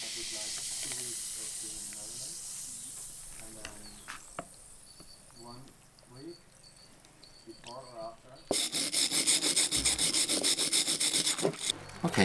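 Someone talks over faint scraping, then a wire brush scrubs rust off an old hammerhead with loud, rapid, rasping strokes for the last few seconds.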